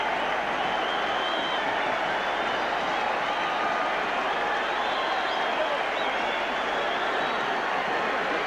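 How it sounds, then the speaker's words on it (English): A rugby league crowd at a 1984 Test match between New Zealand and Great Britain roars and applauds after a try, a dense, steady wall of cheering and clapping throughout, with faint commentary beneath. "The crowd has gone absolutely berserk."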